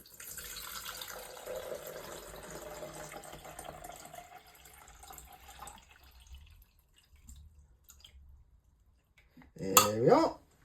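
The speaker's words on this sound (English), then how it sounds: "Now I'm going to put the water tank on the back here, and then fill it up with water." Water runs steadily into a coffee machine's water tank for several seconds, then tapers off into quiet, ending in a brief louder clatter close by.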